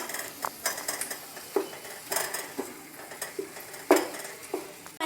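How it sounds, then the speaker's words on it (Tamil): Onion and tomato mixture stirred in a pan with a utensil, giving a series of close scraping and clinking strokes at an irregular rhythm over a low sizzle, no voices. "நல்லா கலக்குங்க."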